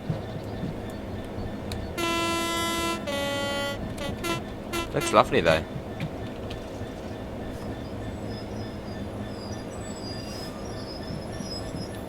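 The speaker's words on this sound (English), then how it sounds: "You got a bit of a freight train there, loaded up as well." A loaded freight train rolls past in Train Sim World 3, its long horn blast sounding near the start, then clanking wagons and wheel squeal over a steady rail rumble while a voice talks over it.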